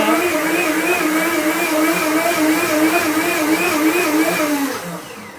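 A blender whirs loudly and steadily as it purées dates with cinnamon and lemon juice, the motor drone running unbroken for several seconds before winding down and fading near the end.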